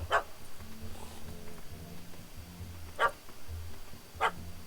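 A dog barks in the video game The Witcher 3: Hearts of Stone, three sharp separate barks spaced a second or more apart over a low, quiet ambient background.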